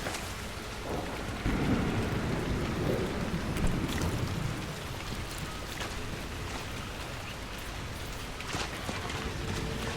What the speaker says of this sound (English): Man, this lightning is violent.